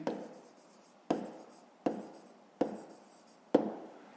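Pen on paper writes out the solution to a fifth-grade math exercise, with five distinct scratching strokes, each starting sharply and fading, spaced about a second apart and close to the microphone.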